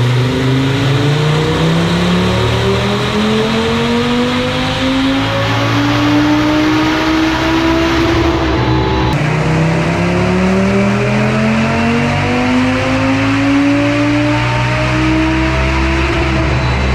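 An Audi RS3 fitted with a TTE777 turbo and running E85 fuel makes two full dyno pulls, each engine tone climbing steadily over several seconds. The sound is loud and close, with a brief break between runs.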